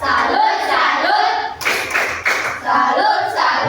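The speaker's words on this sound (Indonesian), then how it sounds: "Satu kali tepuk salut." Classroom children give a single short burst of rhythmic salute claps in the middle, with children's chanting voices close by before and after.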